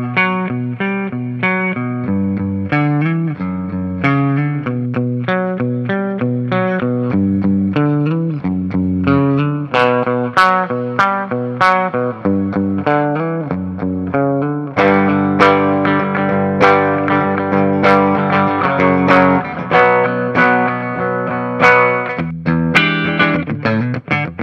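A purple and orange 2010 Gibson Les Paul electric guitar plays loud distorted riffs with chords and single notes, steady and up front with no talking.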